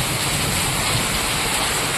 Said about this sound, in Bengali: এত বৃষ্টি হলো ঘন্টাখানেক হলে, এত বৃষ্টি